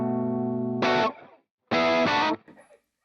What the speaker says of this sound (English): So here's a nice Vox AC15 that's called Jangle.